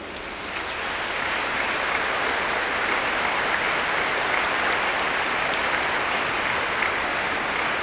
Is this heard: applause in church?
yes